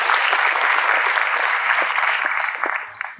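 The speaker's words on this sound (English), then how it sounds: "Yes, give them a round of applause." An audience applauds after a classical Indian dance performance, a dense burst of clapping that holds steady and then thins out toward the end.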